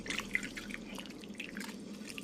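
Hot water pouring over chopped cauliflower seasoned with salt and turmeric powder, a steady close splashing and trickling that continues throughout with small drips, and no voices.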